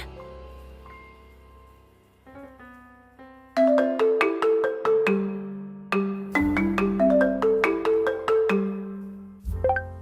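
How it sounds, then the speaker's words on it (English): A phone ringtone plays loud and alone: a melodic run of bright plucked notes that pauses and then repeats in a bouncing pattern. "Why don't you answer your phone?"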